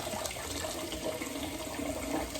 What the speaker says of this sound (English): I'm just gonna pick them up, a couple at a time, and run that really, really, really, really cold water over.